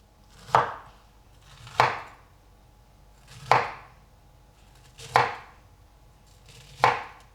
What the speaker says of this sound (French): ce que j'aime bien faire, c'est les couper en quartier à peu près